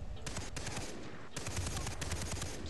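Rapid automatic gunfire from a Far Cry 3 co-op firefight, dense bursts of shots rattling almost without pause, loud and close with a brief gap before the shooting resumes.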